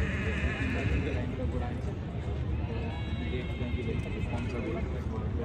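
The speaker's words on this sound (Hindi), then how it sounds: "और बहुत ही ज़ोरदार प्रदर्शन करता हुआ ये घोड़ा भी, गोल्डन रॉक" A stallion neighs amid a busy stallion ring at the Sarangkheda horse fair, with long whinnies rising over constant crowd noise and someone talking throughout.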